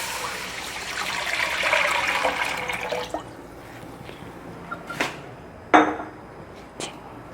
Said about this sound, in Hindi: अब हम इसमें 4 कप पानी डालेंगे।